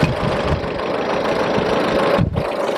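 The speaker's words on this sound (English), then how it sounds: "Nice tractor though." A tractor engine runs steadily at a ploughing match on Romney Marsh, a loud, continuous rumbling drone with a knocking quality and a brief dip near the end.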